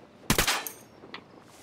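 A short burst of rapid automatic gunfire in the tactical shooter Ghost Recon Wildlands: a loud close cluster of shots followed by a fainter echoing report, with no talk.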